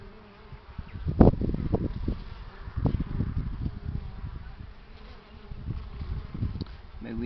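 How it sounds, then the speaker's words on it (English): Dense buzzing of many honey bees close by at a hive entrance, swelling and fading as they fly in and out, with a few bumps and taps mixed in. "Too many bees coming in and out."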